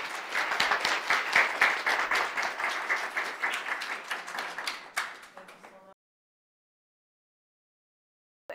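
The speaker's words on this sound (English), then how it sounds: "Round of applause." An audience gives a round of applause at a panel event on gender equality, dense clapping loud and sustained for about five seconds before tapering off and falling silent.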